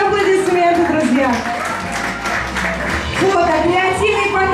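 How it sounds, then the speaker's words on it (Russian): Audience applause greets the opening of a concert, a broad wash of clapping running steadily under music and voices throughout. "ваши аплодисменты, друзья"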